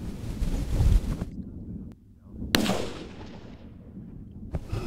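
A single sharp rifle shot cracks out during an outdoor mule deer hunt, close and loud, then rolls away in a long fading echo over steady wind noise on the microphone.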